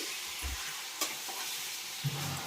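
Chicken curry with fried onions stirred in a pan, quiet sizzling broken by a couple of distinct spoon knocks against the pan.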